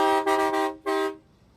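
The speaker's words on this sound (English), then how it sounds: "He's just jealous because I got the air horn and I get him all the time." A truck-style air horn gives two loud, close blasts, a long one and then a shorter one after a brief gap, with a bass fishing tournament setting in the background.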